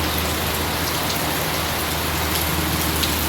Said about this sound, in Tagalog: It's 5:30 pa ng umaga, agang umulan.